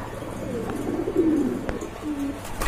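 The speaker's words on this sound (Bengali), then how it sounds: "এখানে দেখতে পাচ্ছেন আর এক জোড়া কবুতর রয়েছে" A pair of pigeons coo in soft, low, rounded calls, close by, over a steady room murmur.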